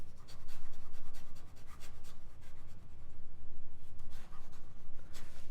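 A Cleo Skribent Optima fountain pen scratches quickly across paper in rapid, rhythmic strokes, with short pauses between bursts of fast writing.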